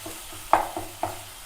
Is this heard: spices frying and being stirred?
yes